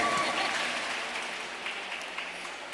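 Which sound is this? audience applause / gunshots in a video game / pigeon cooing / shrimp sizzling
audience applause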